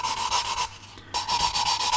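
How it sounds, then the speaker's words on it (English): A 400-grit sanding sponge rubs across a 22-inch Eagle 1 model in quick back-and-forth strokes, a close, steady rasping that pauses briefly midway. "So every time we go in with the sanding sponge now, we're going in the opposite direction."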